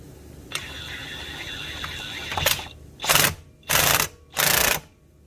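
A pneumatic impact gun on medium setting hammers a socket onto the primary gear of a Honda 420/500/520 ATV, three loud close bursts of rattling after a quieter lead-in of workshop noise.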